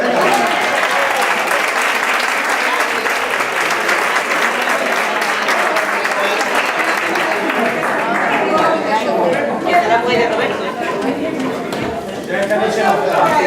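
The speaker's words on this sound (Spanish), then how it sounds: "Un aplauso a Carmen" A crowd at an interactive flamenco event in Algeciras applauds Carmen with loud, sustained clapping from many hands. Voices and chatter mix in partway through as the applause carries on.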